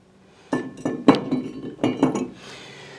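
A metal brake rotor being fitted onto a wheel hub makes four or five sharp, ringing clanks close by in quick succession, then falls quiet.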